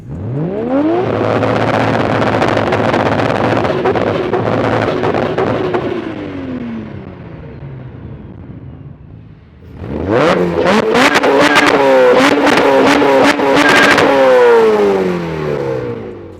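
An 800 hp R34 Skyline and a 400 hp K20-powered Mini rev loudly and continuously, rising and falling in pitch, fade briefly, then roar back up with repeated revving bursts.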